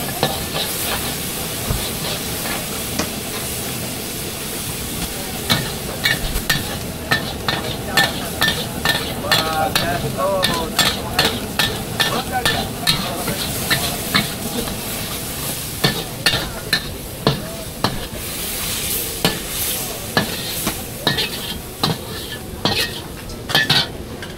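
Cockles being stir-fried at a Malaysian night market stall in Seberang Jaya, Penang: steady sizzling under rapid, repeated metal clangs of a spatula against the wok, close and loud, with no talk.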